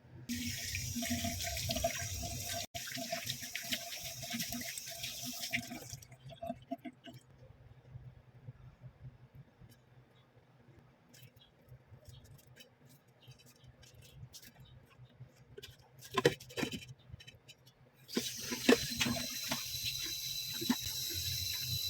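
Running tap water rinses fried fish for a dried coconut fish soup, a loud steady gush at the start that stops, quiet handling and clatter in between, then the faucet gushes again.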